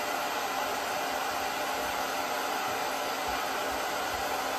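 A hair dryer drawing about 1000 watts from a portable battery runs continuously, a steady, even broadband whoosh at moderate level with no talk.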